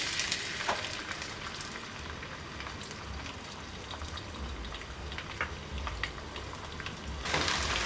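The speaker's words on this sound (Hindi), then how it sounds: "अब इसमें ये प्याज सौते कर लेंगे।" Chopped onions sauté in a cup of hot cooking oil in a kadai, giving a steady, dense sizzle and crackle that runs close and even throughout, with no voices.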